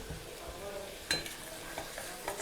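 Inji curry, a Kerala ginger curry, being stirred in a pan: faint scraping strokes of a spoon against the pan over a soft simmering sizzle, quiet and close.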